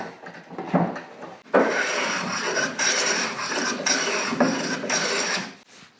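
Hand plane shaving a poor-quality piece of wood held in a benchtop woodworking vise, a loud steady rasping with repeated strokes, each beginning with a sharp onset and running about a second, no talk.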